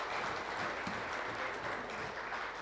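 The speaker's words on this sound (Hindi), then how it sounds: "एक बार जोरदार तालियों से रमेश अग्रवाल जी का स्वागत किया जाए" Applause from an audience at a wealth summit welcoming a speaker, a steady, fairly faint patter of many hands clapping heard alone for the full stretch.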